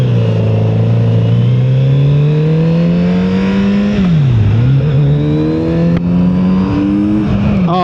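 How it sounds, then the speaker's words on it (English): A 2024 Kawasaki Z900 RS motorcycle accelerates hard, its engine pitch climbing steadily through a gear, dipping briefly at a shift and rising again, loud and close with wind rush throughout. "Oh my word, this bike is so fast."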